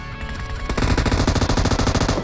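Rapid automatic gunfire in the mobile game PUBG Mobile rattles loud and close in a sustained burst, preceded by a brief softer moment.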